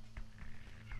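A male house cat lying on a microphone cable gives a couple of faint, brief meows, heard softly behind a steady electrical hum.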